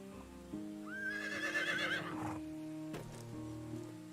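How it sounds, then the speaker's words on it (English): A horse in Medieval Dynasty gives one loud, clear whinny with a rising, quavering call that lasts about a second and a half, then hooves shift over a low hum of in-game music. "let's call the horse"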